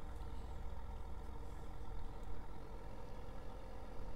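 A 6210 tractor engine idles steadily in a farming video game, a continuous low rumbling drone at moderate level with no talking.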